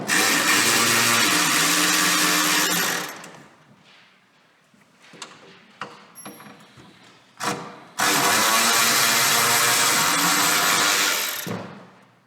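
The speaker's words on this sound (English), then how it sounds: "when you're taking off the screws from the inside of the tunnel" A power tool drives out screws while removing a rear bumper: two loud, sustained whirring bursts, one at the start and one near the end, with clanks and rattles of handling between them.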